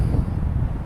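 Wind blowing outdoors buffets the microphone in a brief, loud, low rumble that stays steady throughout.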